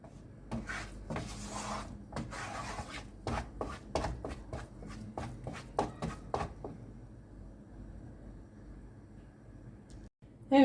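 Rapid scraping and rubbing of a utensil as flour is roasted in a pan for Turkish flour halva, busy strokes for several seconds, then quiet with a faint bump at the end.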